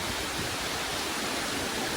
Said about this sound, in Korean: 이제 계곡 안쪽으로 들어갈수록 크고 작은 폭포들이 하나둘 모습을 드러냅니다.